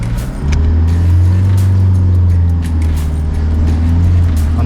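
A car climbs a steep off-road track under heavy throttle, its engine droning loud and close with a steady low growl while loose bumps and knocks sound through the drive.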